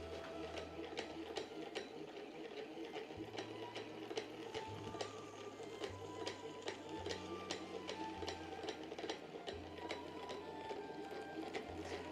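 A sewing machine for historical tailoring runs steadily and alone, close and moderately quiet, its needle ticking in an even rapid rhythm over a low motor hum.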